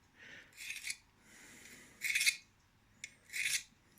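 Several short, hissing scrapes of a recurve blade's edge drawn across a ceramic sharpener, close but fairly quiet, spaced apart by brief pauses.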